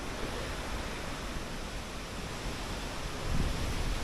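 Strong, gusty wind of about 39 km/h sweeps across a beach at Erdek Narlı, a steady loud roar of buffeting air that swells briefly near the end.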